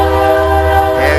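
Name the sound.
train passing on a small railway line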